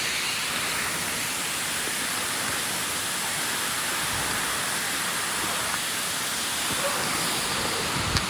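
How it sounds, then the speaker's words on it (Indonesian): Kampung waterfall on the Gunung Kahung trail in Malaysia, a steady broadband rush of falling water that stays loud and unchanging the whole time, with no voices. "Di sini aku mau memperlihatkan betapa bagusnya air terjun Kampung."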